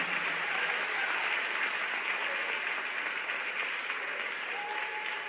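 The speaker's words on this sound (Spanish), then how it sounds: "Dale un aplauso a tu Rey." A church congregation applauding during a Spanish-language worship service, a continuous, even wash of clapping that holds at a steady level from start to finish.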